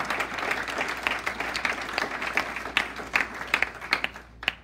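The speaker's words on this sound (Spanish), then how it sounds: "Denle fuerte aplauso si pueden." A Spanish-speaking church congregation claps during a worship service, producing dense, lively applause with sharper individual claps standing out before it thins near the end.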